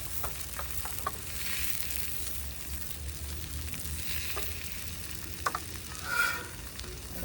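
Brunch food fries in grease on a griddle, giving off a steady close sizzle with scattered small pops and crackles and one brief swell of hissing near the end.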